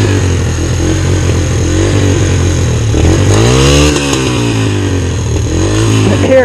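A Kawasaki KX125 two-stroke dirt bike engine on a muddy trail buzzes loud and close, its pitch rising and falling as the throttle is blipped and held, with a strong rev swell midway, continuous throughout and no talk.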